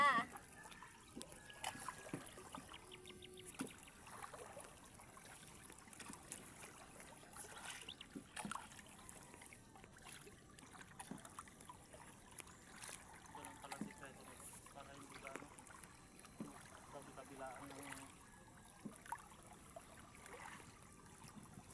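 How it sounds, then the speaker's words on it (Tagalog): Water trickles and laps against a small boat, with faint splashes and distant voices in the background, fairly quiet throughout. "Bangka."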